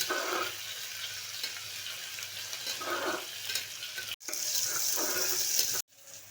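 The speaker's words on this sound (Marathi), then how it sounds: "याच्यामध्ये टमाटर घालूया चांगलं परतून घेऊ" Tomatoes sautéing in a pan for chicken biryani, a steady hissing sizzle with soft stirring swishes, fairly quiet and continuous, broken by a brief gap near the end.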